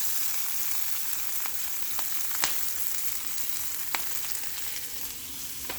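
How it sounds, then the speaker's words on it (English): Broccoli sears in a hot pan with a dense, constant sizzle, broken by a few faint clicks, close and steady throughout. "Get a nice sear on it."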